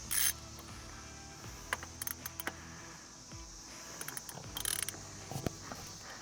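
A ratchet bolts up an oil nut on a Red Mountain King, giving quiet scattered clicks and mechanical ticks with brief sharp bursts, close by and otherwise near silent.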